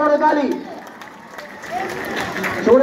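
Students clap for the players during an inter-class school football tournament final, giving a spread-out crowd patter of applause under a loud voice talking close by.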